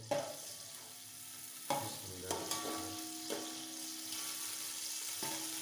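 Chopped onions frying in a pan, a steady moderate sizzle with a few scraping stirs of a spatula, fairly quiet and close.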